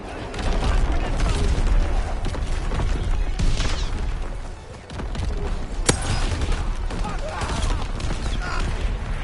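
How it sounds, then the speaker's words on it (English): Incoming enemy artillery fire in a video game, a dense continuous barrage of booms and blasts with one sharp crack near the middle, loud and close throughout. "Incoming enemy artillery. Get to cover."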